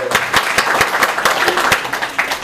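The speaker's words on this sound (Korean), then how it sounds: "박수 한번 쳐주세요" Brief, close applause from a small audience at a hospital faith retreat in Yeosu, with distinct rhythmic hand claps standing out over the crowd's clapping.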